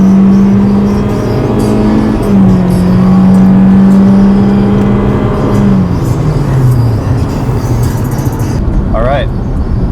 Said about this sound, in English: that was a highway pull.